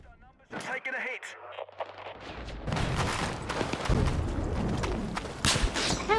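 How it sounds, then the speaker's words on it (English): Short bursts of light machine gun fire in Battlefield 6, loud sharp reports crowding together over a few seconds with scattered game noise and a voice talking. "Or are LMGs burst fire in this game?"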